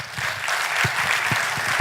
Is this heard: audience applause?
yes